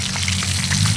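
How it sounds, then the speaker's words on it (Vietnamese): Rats frying in hot oil outdoors in a rice field, a steady dense sizzle with scattered crackles, close and fairly loud throughout. "Hôm nay chiên chuột hay ta."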